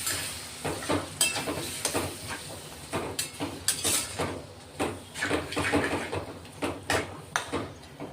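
Masala for a quick moong usal sizzling and being stirred in a pan over a low gas flame after a few spoons of water, with irregular scraping strokes and bursts of hiss.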